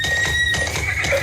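A horse neighs loudly and up close in a radio advertisement, one short whinny with no talking over it.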